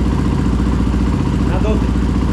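A KTM EXC 450 dirt bike engine, just fitted with a new piston, runs in a loud, close, steady rhythmic putter. Someone speaks over it briefly.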